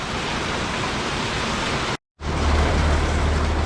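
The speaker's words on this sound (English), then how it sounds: "we're already getting the rain, already getting some winds." Heavy rain and wind from Hurricane Helene pour down as a loud, steady broadband roar, cut by a brief silence before resuming with added low rumble.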